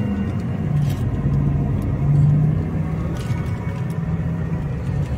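Interior of a 2023 Tata Tiago XT(O) hatchback on an on-road test ride, its engine a steady low rumble with road noise throughout, a slight swell partway through, no talking.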